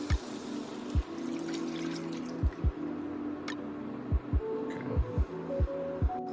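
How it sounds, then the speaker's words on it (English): Two cups of whole milk going into a pan of melted butter and garlic, a soft liquid pour punctuated by several low thumps and drips near the mic. "Now we're going to go in with 2 cups of whole milk"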